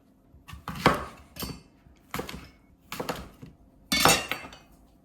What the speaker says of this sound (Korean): 이런 식으로 사과를 전부 다 4등분해서 껍질을 제거해 주세요